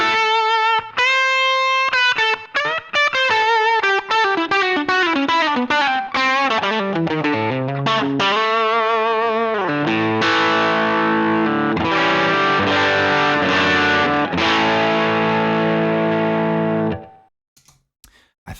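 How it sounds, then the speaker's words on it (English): An electric guitar plays a distorted lead tone through a Line 6 HX Stomp in a country setup, with fast descending runs and then sustained bent notes and chords, loud and alone before stopping abruptly near the end. "if I did need a kind of distorted lead sound"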